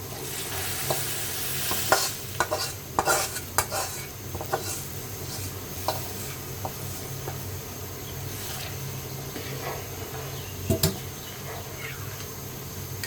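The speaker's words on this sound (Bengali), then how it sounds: "পেঁয়াজ রসুনটা আমি লাল করে ভেজে নিচ্ছি। এখন এটা ডালে দিয়ে দিব।" Onion and garlic fried until reddish-brown are tipped into simmering masoor (red lentil) dal and stirred in, with a steady sizzle under repeated scraping and clanking of a spoon against the pot for about thirteen seconds.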